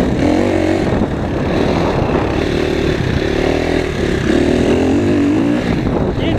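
A cross-country motorcycle with a replaced exhaust manifold runs steadily close by on a training track at EMG Arena Gryfice, its engine note rising and falling slightly without a break.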